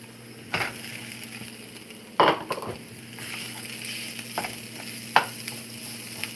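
Eggrolls frying in a pan give a steady hiss, broken by several sharp clatters and scraping stirs of a utensil against the pan, close up and with no talking.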